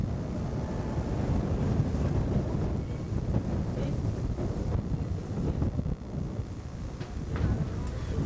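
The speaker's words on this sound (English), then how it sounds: "It's pretty windy right now." Steady low wind rumble buffets the microphone throughout in Mussoorie, with a broad constant roar and a few faint background noises.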